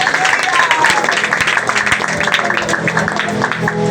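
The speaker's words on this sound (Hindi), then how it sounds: "जोर से तालियां बजाएंगे बैठ के" Seated congregation at a Sunday holy communion prayer meeting clapping loudly together, a dense continuous roar of hands with voices mixed in.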